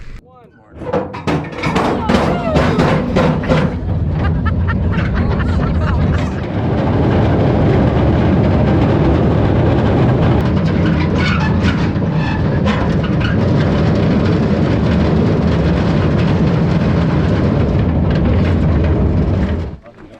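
A heavy rumbling of an old mining locomotive running at the Atlas Coal Mine, steady clattering and mechanical noise with some sharp clanks early on, loud and close.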